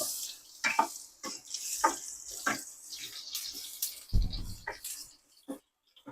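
Onions dropped into hot oil in a pan for corned beef sauté, a bright hissing sizzle broken by scraping stirs and a few knocks, close and fairly loud, with no talking.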